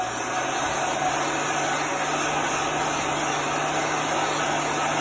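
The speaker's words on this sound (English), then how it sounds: "You're going to take your heat gun" A heat gun blows hot air steadily to dry a craft surface, a continuous even whooshing motor roar with a high whine, unbroken and close throughout.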